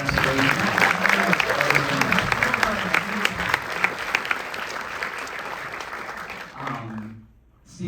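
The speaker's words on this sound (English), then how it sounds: "round of applause for Indie Collector's wonderful restoration" Loud, sustained applause from a sizable audience at a film screening Q&A, dense clapping with some cheering mixed in, fading out near the end.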